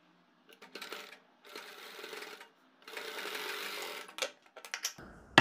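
A sewing machine stitches lace onto a kurti in several short runs of rapid, close mechanical whirring separated by pauses, ending with a few light clicks and handling noises.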